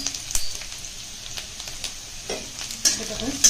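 Peanuts and onions frying with turmeric in a pan for mudhi bhaja, a soft steady sizzle broken by a few louder stirring scrapes, close and alone.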